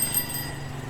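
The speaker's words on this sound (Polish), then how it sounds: "Ten ma dzwonek rowerowy w motorze." A bicycle bell fitted to a motorbike on a town street in Africa, giving a brief bright ring at the start over a steady low engine hum.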